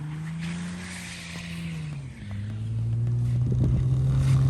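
An all-wheel-drive car with a VQ engine at full throttle, sliding through several inches of snow: a loud, sustained engine drone that dips as revs fall, then climbs again to a steady, heavier roar, with tire noise underneath.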